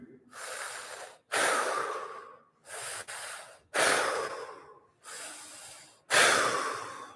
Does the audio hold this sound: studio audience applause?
no